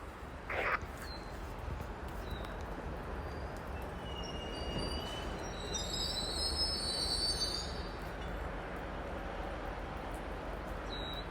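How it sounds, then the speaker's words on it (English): A CN freight train rolling past at a distance, a steady low rumble of wheels on rails with high, shrill wheel squeals rising over it midway, and faint birdsong in the background. "along came CN M313. Coming to the Macmillan Yard in Concord is heading to Winnipeg."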